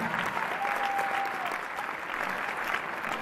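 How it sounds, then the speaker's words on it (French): An audience claps steadily in a hall for a few seconds, a dense, even wash of applause with no voices over it. "d'habitude, c'est là que vous applaudissez"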